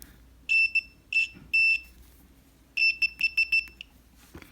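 Multimeter continuity beeper tested on copper wires during a moped repair, sounding sharp high electronic beeps: three separate tones, then a run of quick short pulses, alone in a quiet room.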